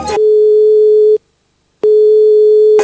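A mobile phone ringback tone plays in a Ukrainian radio advert: two loud, steady electronic beeps about a second long each, separated by a short silent gap.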